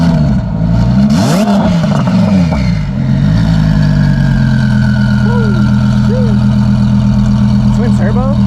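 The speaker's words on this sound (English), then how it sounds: "I bet he revs it when we walk by." A twin-turbo Audi R8 at an Ohio car meet, with a loud, deep engine blip early on and then a steady, rumbling idle, plus a few brief higher whines near the end. Voices are heard faintly in the background.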